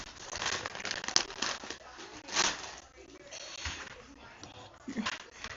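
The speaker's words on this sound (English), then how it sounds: "Got a big bag of hot Cheetos." A big bag of Hot Cheetos is crinkled close up, with bursts of crackly plastic rustling coming and going over several seconds, alone without talk.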